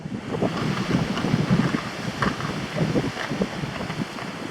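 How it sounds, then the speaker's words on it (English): Wind buffets the microphone outdoors on a breezy day along a walking path at a Disney resort, a loud continuous rumbling gusty rush with no talk. "It's a nice breezy day here."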